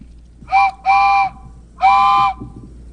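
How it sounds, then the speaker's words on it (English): Three shrill, tonal whistle blasts, two short ones close together and then a longer one, sounding near and clear over a faint background murmur. "where's that whistle coming from?"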